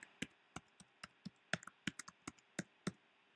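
Quick, irregular taps on a computer keyboard, heard alone at low level, with a dozen or so distinct key clicks spread over a few seconds of otherwise quiet room tone.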